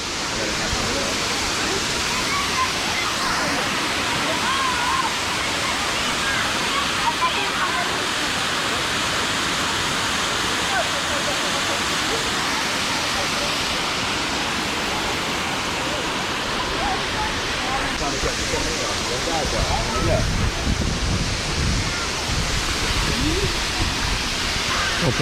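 A waterfall roars steadily as people bathe beneath the cold falls, a loud, continuous rush of water that fills the whole stretch, with faint voices now and then.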